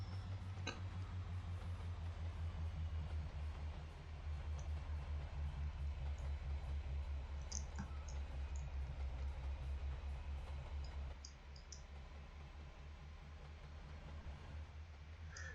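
A train in the Trainz simulator game runs with a continuous low engine drone and faint rail clatter, steady and moderately quiet, dipping slightly toward the end.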